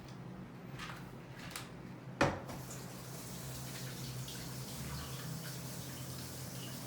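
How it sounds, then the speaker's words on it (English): Tap water running over hands to rinse off banana bread dough, a soft continuous splashing stream broken by a sharp clatter partway through, then steady flow to the end. "now I'm going to wash them"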